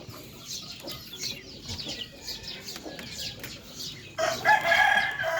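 Chickens of a mixed Chiang Phanat and Burmese breed cluck and call at moderate distance, with a louder, bright crow bursting in near the end.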